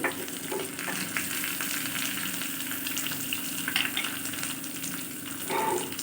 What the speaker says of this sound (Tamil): நம்ம எடுத்து வச்சுருந்த வெங்காயம் பச்சை மிளகாய் கருவேப்பிலை சேர்த்தாச்சு இது வதங்கி வந்ததுக்கப்புறம்